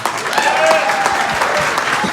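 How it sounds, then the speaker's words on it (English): Audience applause following a speech by an MHE patient and advocate at a Funtasia event, a steady wash of clapping from a crowd lasting about two seconds, fairly loud and continuous with no talking over it. "let's give a nice round of applause for Vincent and all of our MHE patients here"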